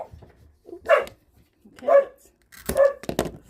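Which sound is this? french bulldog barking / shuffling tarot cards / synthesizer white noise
french bulldog barking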